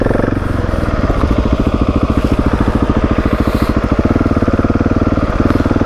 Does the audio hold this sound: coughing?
no